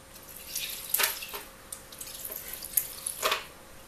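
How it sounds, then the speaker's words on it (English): Leftover morning coffee poured into a Nutella frappe, giving a few soft splashing, dripping bursts of liquid close by, with quiet gaps between pours. "I'm going to take some coffee, leftover coffee from this morning, and I'm just going to pour some in there."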